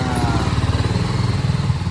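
A BMW motorcycle fresh from its first service runs nearby, a steady throbbing engine note with a rapid pulsing rhythm, fairly loud and close throughout the brief moment.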